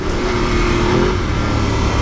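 Voge DS900X adventure motorcycle engine revving hard on off-road trails, a loud continuous engine roar with a steady low drone throughout and no talking.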